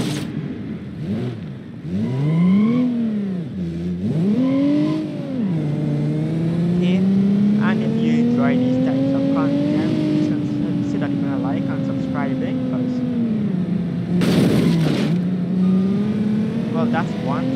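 A car revs and drives in BeamNG.drive, its engine note climbing and holding in a steady drone that shifts pitch through gear changes, with a brief harsh burst near the end.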